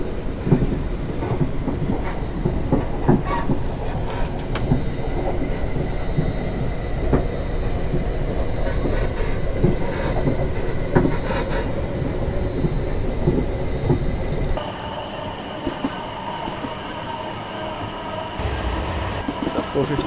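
A simulated passenger train runs between Portsmouth Harbour and London Waterloo in Train Simulator 2018, giving a steady loud rumble of wheels and motors with faint clicks, the sound shifting to a quieter hum near the end.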